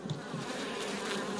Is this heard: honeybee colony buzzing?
yes